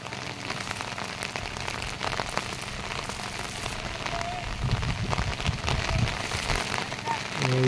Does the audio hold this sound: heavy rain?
yes